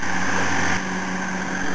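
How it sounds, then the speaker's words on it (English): A pasture-mowing machine, towed at up to 11 or 12 mph to clip pastures or cut hay, hums with a steady close engine drone and a slight shift partway through. "You can actually go up to travel 11 or 12 miles an hour using this mowing machine to clip the pastures or mow down hay."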